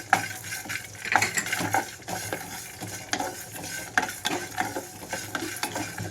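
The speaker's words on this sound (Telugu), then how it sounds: "మధ్య మధ్యలో కదిలించుకుంటూ వేయించుకుంటున్నాను ఇందులోకి జీలకర్ర కూడా వేసేసుకుంటున్నాను" Cumin seeds and dry coconut pieces are dry-roasted and stirred in a pan, with repeated scraping and rattling from the spoon over a soft, low crackle.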